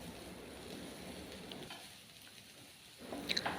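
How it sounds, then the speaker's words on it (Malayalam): Pepper beef fry with coconut oil being stirred in a pan, a soft close sizzle that dips briefly before a few light spoon scrapes at the end. "ഇതിൽ കുറച്ച് വെളിച്ചെണ്ണയും കൂടിയും ഒഴിച്ച് കൊടുത്തിട്ട് നമുക്കിതൊന്ന് ഇളക്കി മിക്സ് ചെയ്തെടുക്കാം."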